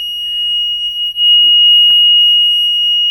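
A single high-pitched startup warning buzzer on an Onan DJC generator sounds steadily and loudly while the glow plugs are energized, with faint clicks and knocks in the background.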